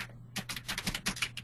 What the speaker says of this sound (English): Oh, you're typing.